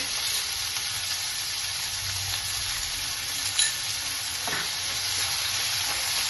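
Ginger garlic paste frying in a pan for a frankie filling, a steady soft sizzle with a faint stir and scrape midway, quiet and close, no speech.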